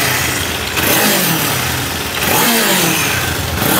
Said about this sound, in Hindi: हम आपको सुनाने वाले हैं 500 निंजा का एग्जॉस्ट साउंड।